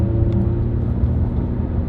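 Porsche 992 GT3 RS with titanium valved exhaust closed and OEM manifold, a steady low engine drone with a faint whirring tone, heard up close at low revs without much exhaust bark.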